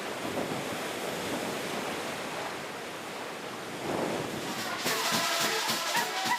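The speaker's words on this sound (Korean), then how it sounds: "이곳에 서면 한쪽에서는 남태평양의 거센 파도 소리를, 다른 쪽에서 산호초 바다인 라군의 잔잔한 물결 소리를 동시에 들을 수" Heavy South Pacific surf washes steadily against Tuvalu's shore beside a calm coral-reef lagoon, a continuous nearby roar of breaking waves mixed with gusting wind buffeting the microphone.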